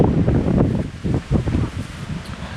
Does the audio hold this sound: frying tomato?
no